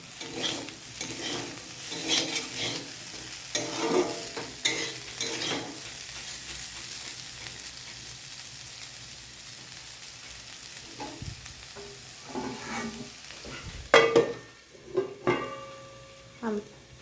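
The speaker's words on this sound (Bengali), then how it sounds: "এই যে এরকম লাল লাল আলু ভাজা এরকমই আমাদের বাড়িতে খায়।" Potatoes frying in a pan while being stirred, a soft steady sizzle with intermittent scraping and clinks of a utensil against metal, ending in a few sharper knocks.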